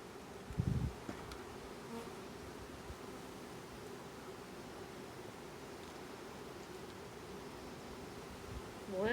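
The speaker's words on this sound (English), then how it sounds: "I'm starting to get surrounded with bees" Honeybees swarm around an opened beehive as frames are worked, giving a steady, dense buzz that fills the whole stretch, with a brief louder rustle near the start and another at the end.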